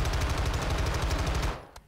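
Rapid automatic gunfire in the video game Warzone 2.0, a loud, dense stream of shots with heavy low thump that cuts off near the end, leaving a brief quieter tail and one faint final crack.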